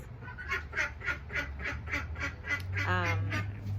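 A duck quacks in a steady, evenly spaced series of about a dozen calls, moderately faint against a low background hum.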